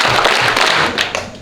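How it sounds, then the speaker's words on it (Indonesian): A roomful of seminar participants claps together in a burst of dense, loud, overlapping hand claps that fill the short moment with no talking. "3 tepukan."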